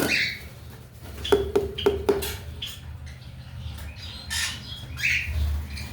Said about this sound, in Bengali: জাবা পাখিও দুইটা ডিম দিছে